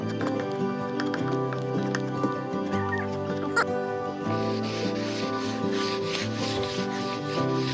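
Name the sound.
hand sanding wooden bay window moulding with sanding sponge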